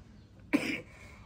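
An elderly Buddhist nun gives a single short, hoarse cough, close and fairly quiet, against a faint background.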